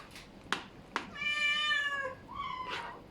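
Cats meowing just outside a home kitchen: a few sharp clicks, then a long clear meow and a shorter one close by, with no talk.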